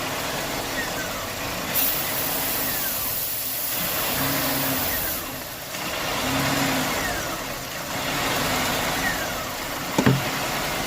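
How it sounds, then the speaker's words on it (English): A Buick engine idles and begins to stumble during a vacuum leak test for a lean condition, a steady mid-range running drone with uneven surges and a brief sharp noise near the end. "Hear the motor starting to stumble?"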